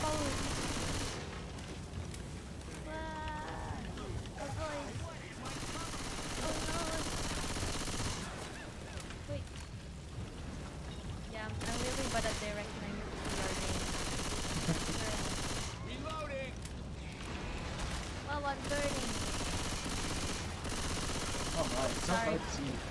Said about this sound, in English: it's the infected shooting us